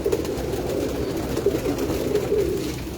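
A Tedhi Salari female pigeon, a flying hen bird, coos close and steady in low, continuous throaty rolls with no talk over it.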